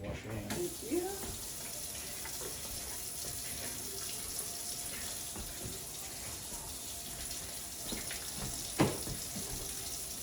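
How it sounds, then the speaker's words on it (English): Water runs steadily from a kitchen tap for hand washing, a continuous close hiss and splash with a few clinks and faint background talk. "I'll turn the water back on for you so you can wash your hands."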